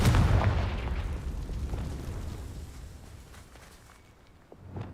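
A Confringo spell explosion in Hogwarts Legacy booms loudly at the start, then its rumble decays slowly over several seconds before a small thump near the end.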